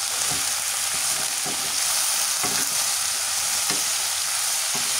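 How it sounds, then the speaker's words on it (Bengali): Potato and bitter gourd pieces frying in a pan for alu korola bhaji, a steady close hiss of sizzling oil with a few soft stirring scrapes, no talk. "আজকে আমি আলু করলা ভাজি করতেছি"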